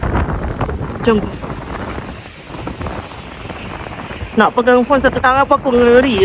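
Strong wind on a high lookout above a beach buffets the microphone in rough gusts, with someone talking close by through the rumble.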